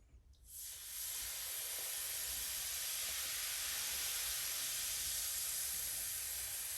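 Vinegar poured onto baking soda in a drain sets off a steady, loud hiss of fizzing that starts within the first second and holds evenly to the end.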